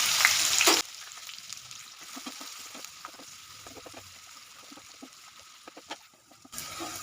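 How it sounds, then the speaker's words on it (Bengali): Onion and green chilli dropped into a little hot white oil in a frying pan, with a loud burst of sizzling at first that settles into a quieter, steady crackle with occasional stirring clicks. "তেলের মধ্যে প্রথমে পেঁয়াজ আর কাঁচা লঙ্কাটা দিয়ে দিচ্ছি।"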